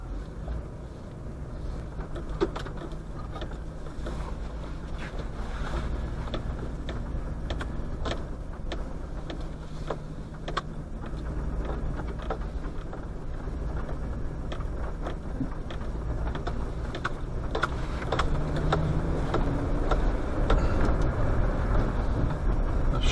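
A car drives at night with a steady engine hum and road rumble heard from inside the cab, along with faint ticks and rattles throughout and no talking.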